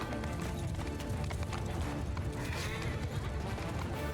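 Cavalry horse hooves pound in a battle in the video game Mount & Blade II: Bannerlord: dense, continuous clip-clopping from many horses, loud and close amid a busy battlefield din.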